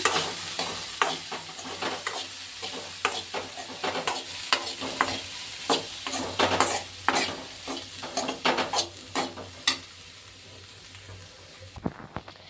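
Turmeric powder being stirred into food frying in a pan, with a steady sizzle under repeated close scraping strokes of a spoon against the pan, a few sharper clinks near the end.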